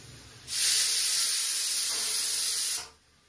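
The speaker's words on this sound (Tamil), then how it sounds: "குக்கர் விசில்னாலே கிட்ட வர மாட்டேன், ரொம்ப தூரமா போய் நின்றுவேன்" A pressure cooker whistle lets out a loud, steady hiss of escaping steam, holds for a couple of seconds, then cuts off abruptly, leaving quiet room tone.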